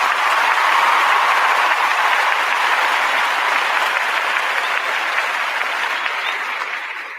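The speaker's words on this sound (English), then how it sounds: "here's a clap for them again." A loud, dense burst of crowd applause played as a sound effect, sustained evenly and tapering slightly at the end, with no talk over it.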